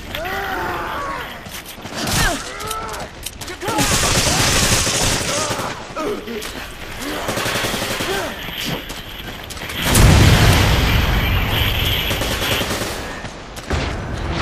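In a Resident Evil 5 versus match, shotgun blasts and machine gun fire crack out in dense, loud bursts. Heavy volleys come near the start and again around the ten-second mark, with short gaps between them.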